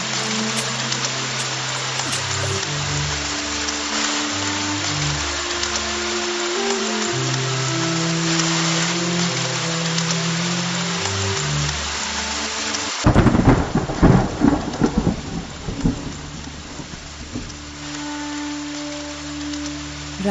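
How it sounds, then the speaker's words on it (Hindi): A fierce thunderstorm in a dense forest brings heavy, continuous rain, then a loud, close thunderclap breaks out and rumbles for several seconds, all over a soft low musical backing. "अचानक मौसम बदला और भयानक आंधी तूफान आ गया।"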